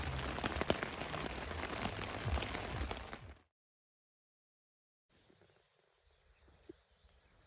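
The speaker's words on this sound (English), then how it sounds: "It's the rain coming down and it had stopped for a bit, and obviously it's smashing off the trees in the wind" Wind-driven rain pours down and batters the trees, a dense, loud hiss with scattered drips. It cuts off abruptly, then gives way after a silent gap to faint, sparse dripping.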